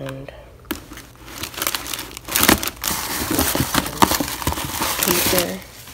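Paper crinkled and crumpled by hand while packing a shipping order with thank-you cards, close irregular rustling bursts that rise and fall, and a voice speaks briefly over it.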